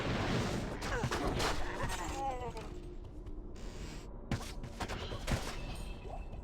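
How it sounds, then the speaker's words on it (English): The Amazon's strafe skill in Diablo 2 fires a rapid, clattering volley of arrows, dense overlapping shots and impacts with mechanical clicks, heard alongside game effects. "That's what your character sounds like when they use strafe."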